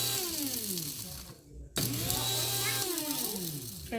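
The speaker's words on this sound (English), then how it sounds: "It's a coffee grinder." Coffee grinder whirring loud and close as it grinds dried hot peppers into powder, a harsh spinning motor whine with shifting pitch that cuts out briefly and then starts again.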